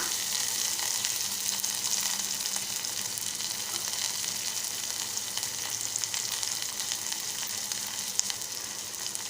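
Onion, green chillies and curry leaves fry in a pan for a Malvani-style kulith pithla, giving a loud, even, hissing sizzle that carries unbroken from start to finish.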